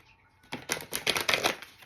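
A deck of oracle cards is shuffled in one quick burst, a close, crisp riffling flutter of cards lasting about a second, alone after a brief quiet start.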